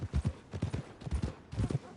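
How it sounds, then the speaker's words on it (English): Hooves of a horse in Red Dead clip-clop in a steady walking rhythm, paired strikes repeating at close range, clear and unhurried, with faint voices around. "You got a problem with that horse?"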